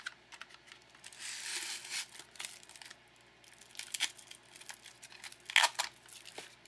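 Paper fed by hand through a Xyron sticker maker, giving irregular crinkly rustles and dry clicking bursts that rise and fall close by, with brief quiet gaps and a sharper crackle near the end.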